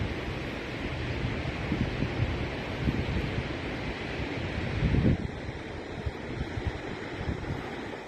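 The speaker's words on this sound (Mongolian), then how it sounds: "энэ үерийн ус маань давж гарсан" Floodwater rushing over a bridge in Erdenebüren, Khovd, Mongolia, a steady broadband roar with wind buffeting and a brief louder surge midway, continuous and close.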